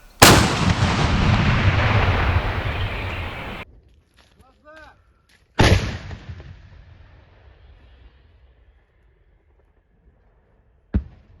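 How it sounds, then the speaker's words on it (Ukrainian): A loud artillery shot booms close by, then a long rumbling roar fades; a second sharp blast follows, and a last distant thud near the end. "Постріл!"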